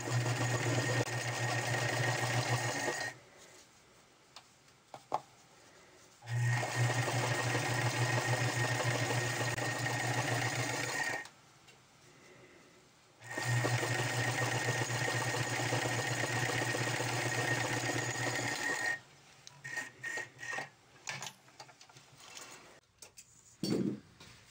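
Sewing machine stitching the side seam of a sweater in three steady, close runs of even mechanical whirring, split by short pauses with light handling noise, and no talking.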